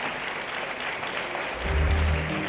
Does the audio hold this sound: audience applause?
yes